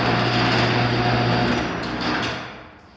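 An overhead door opener motor runs loud and close, a harsh steady whirring hum with mechanical rattle that slowly fades toward the end.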